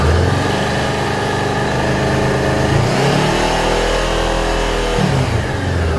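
A motorcycle engine cranks and fires up, then settles into a steady idle with a brief rev in the middle, a close mechanical hum with a low rumble, heard without talk.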